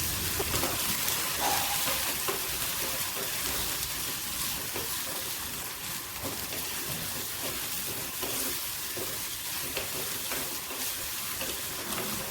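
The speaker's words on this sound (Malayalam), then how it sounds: "ഇനി നമുക്ക് ഇതിലേക്ക് പതിനഞ്ച് ചെറിയ ഉള്ളി കട്ട് ചെയ്തിട്ട് ചേർത്ത് കൊടുക്കാം ഉള്ളി ഒന്ന് നല്ലോണം വാടി വരണം" Small chopped onions sauté in hot oil for a Kerala-style sardine curry, giving a steady, dense close-up sizzle that runs unbroken throughout, with faint stirring texture underneath and no talk.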